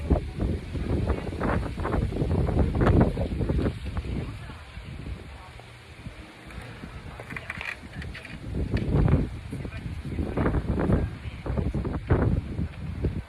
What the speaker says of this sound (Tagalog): Ang lakas nga ng hangin, pakinggan nyo guys.